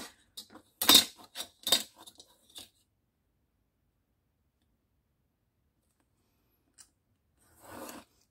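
Scissors snip an acetate sheet for a stacked paper envelope, a quick run of close, crisp cutting clicks, then silence and a faint rustle at the end.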